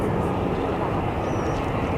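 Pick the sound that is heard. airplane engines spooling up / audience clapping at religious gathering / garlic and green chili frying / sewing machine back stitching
airplane engines spooling up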